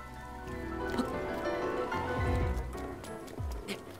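Rain falling in The Legend of Zelda: Breath of the Wild, a steady wash of game rainfall with soft patter and squelchy footstep-like splashes over a low rumble and background game music, no talk.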